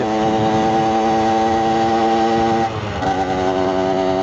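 A French rider's motorcycle engine running loud and close, a strong buzzing drone that dips briefly and then picks back up.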